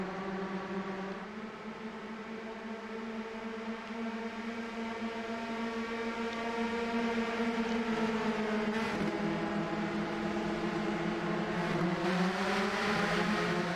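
Race cars on a racetrack accelerate in a sustained, distant engine roar, several motors blending into rising harmonic whines that grow slightly louder toward the end, with no talk.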